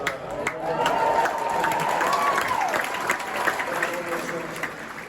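Crowd at Wimbledon cheering and applauding, a dense wash of clapping and cheers at moderate distance that holds steady, with a voice over a loudspeaker heard through it.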